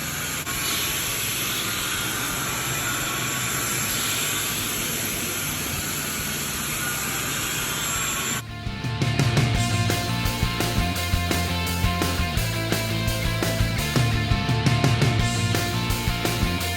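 A Roto Vac power carpet cleaning machine runs steadily with a loud hissing whine, then changes to a harsher rhythmic rumbling drone with repeated pulsing knocks as it works the carpet.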